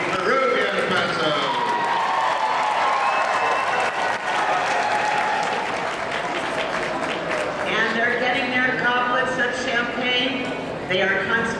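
Loud, sustained applause and cheering from a crowd at a Spanish horse fiesta, greeting Peruvian Paso horses, with voices calling out and possible hoofbeats running through the steady clapping.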